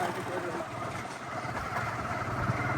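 A motorcycle engine runs steadily as a low, continuous rumble throughout, riding along on a village trip to a mosque.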